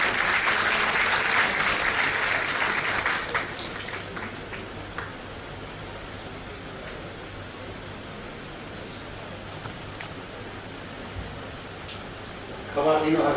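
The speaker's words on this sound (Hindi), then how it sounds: "मैं चाहूँगा आप सब लोग ढेर सारी तालियों के साथ उनका स्वागत करें" A crowd at an awards ceremony applauds to welcome a speaker, a dense, sustained clapping that fades to a quieter patter after a few seconds and swells again briefly at the end.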